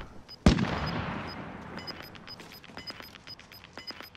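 A single loud, close DMR rifle shot in a video game, followed by a long reverberant decay with faint electronic beeps and small clicks afterward.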